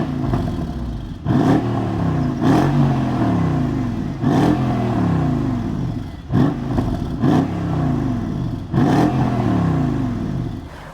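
A Mercedes CLS63 AMG engine is revved repeatedly, with a series of sharp throttle blips that climb and fall back to idle, loud and close.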